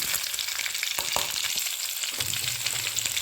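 Two green chillies cut into pieces frying in hot oil, a steady close sizzle with a few sharp crackles and light stirring scrapes running continuously.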